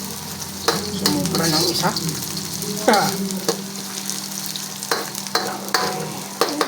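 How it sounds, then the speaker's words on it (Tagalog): Peppercorns and chicken sauté in a pan for a chicken patola and miswa soup, a loud close sizzle broken by repeated scraping stirs and utensil knocks, with a brief spoken remark. "So, gisa-gisa lang tayo."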